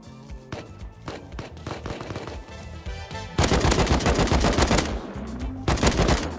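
Rapid bursts of AK rifle fire in the survival game Rust, loud and close, with dense automatic volleys running through the second half amid other game sounds.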